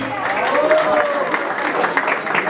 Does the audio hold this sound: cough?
no